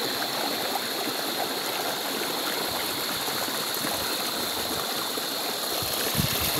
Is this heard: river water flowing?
yes